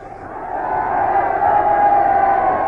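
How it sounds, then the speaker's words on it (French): A crowd cheers and roars in acclaim for a carriage arriving before a theatre in a French radio drama, a dense, sustained swell of voices that builds slightly and holds steady throughout. "La foule vous acclame"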